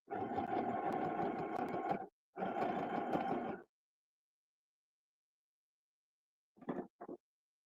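A sewing machine stitches fabric beneath the presser foot, its motor whirring in two steady runs of a few seconds each, followed after a pause by two short bursts, with no talking.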